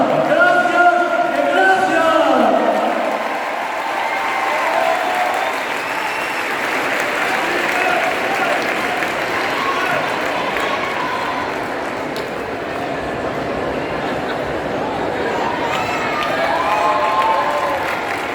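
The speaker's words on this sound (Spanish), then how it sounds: "Viva a patinaxe artística, o grupo show, e un aplauso." A crowd at the opening of the Galician artistic roller skating show championship in Vigo breaks into sustained applause and cheering, a broad roar that swells and holds, with a brief amplified voice at the start.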